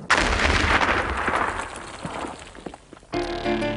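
A loud, rumbling dynamite blast on Oak Island, Canada, opens and then slowly decays, followed by a second burst near the end; heavy, booming explosions with no voices.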